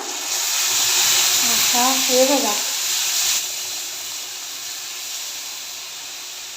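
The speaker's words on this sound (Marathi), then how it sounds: "मस्त फोडणी बसली पाहिजे" A steady, loud hiss of a spice tempering sizzling in a pan as cooked lentils are added, gradually easing off, with a short spoken remark partway through.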